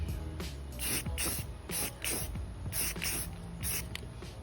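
Spray can paint hissing in a steady rhythm of short bursts, about eight sprays in under five seconds, close and fairly loud, applied as light overlapping coats over concrete.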